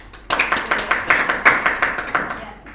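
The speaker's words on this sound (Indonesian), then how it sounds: "Tepuk tangan." A classroom of students claps together after a pupil answers a question about soil, water and air pollution, a burst of quick, fairly loud hand claps starting sharply and continuing steadily before tapering off.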